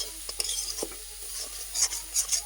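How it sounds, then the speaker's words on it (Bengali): Shredded cabbage stir-fried gently in a pan for homemade chow mein makes a soft sizzle broken by several sharp utensil scrapes and taps against the pan. "আস্তে আস্তে গোটা গোটা ভাজতে হবে"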